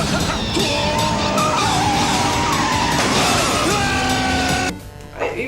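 Car skidding with squealing tires during a car chase scene in the film Highlander 3, loud and sustained with engine roar and crashing debris, then cutting off abruptly near the end.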